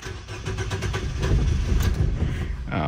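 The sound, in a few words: car engine cranking without starting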